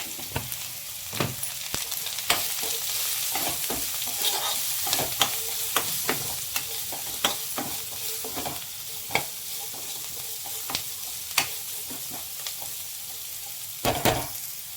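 Vegetables stir-frying in a pan with a steady close sizzle and frequent sharp scrapes and taps of a spatula stirring at an irregular rhythm, alone without talk.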